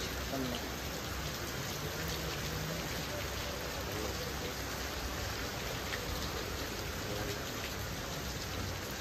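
Heavy rain pours down in a constant, dense hiss, steady and loud throughout, with a faint voice buried under the downpour.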